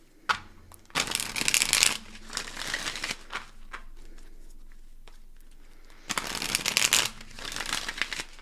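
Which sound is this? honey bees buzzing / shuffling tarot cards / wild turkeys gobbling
shuffling tarot cards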